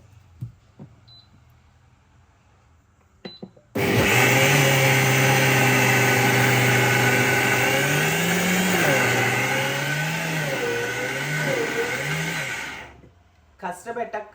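A mixer grinder grinds roasted ragi with water into a thin paste for ragi payasam. After a quiet start it bursts into a loud, steady motor whine with wavering pitch for about nine seconds, then cuts off.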